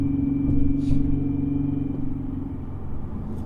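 A car with a newly installed clutch drives hard, its engine a loud, close rumble that rises and falls slightly, with no talking.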